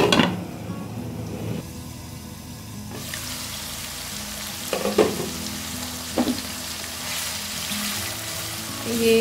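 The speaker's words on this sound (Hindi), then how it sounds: "अब मैं प्याज को ट्रांसपेरेंट होने तक पकाऊंगी।" Onions sizzle and fry steadily in a pan for an apple gourd sabzi, a continuous crackling hiss broken by a few clinks and scraping stirs.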